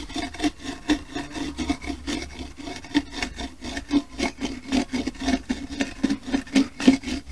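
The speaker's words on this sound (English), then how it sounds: "Hiyo ndo tutaweka maji kidogo na tunaanza kuisugua." A smoothing stone rubs back and forth over a wet handmade clay pot in steady, rhythmic scraping strokes, close and fairly loud, with no talk.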